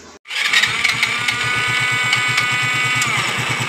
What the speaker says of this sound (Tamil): இது பாருங்கள், வண்டியும் ஸ்டார்ட் பண்ணிட்டேன், வண்டி ஸ்டார்ட் ஆகிடுச்சு